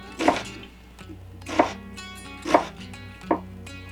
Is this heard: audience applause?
no